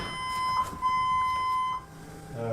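Beeping alarm from a prison body scanner chair, a steady electronic tone held for over a second, with faint room noise around it and no talk.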